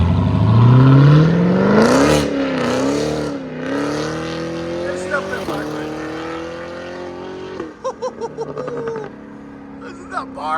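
A straight-piped Cadillac CT5-V Blackwing with its muffler removed revs loudly and close, its engine note climbing and dipping through several throttle blips, then settling into a rough, burbling idle with short sharp pops.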